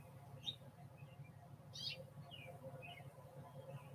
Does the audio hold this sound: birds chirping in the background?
yes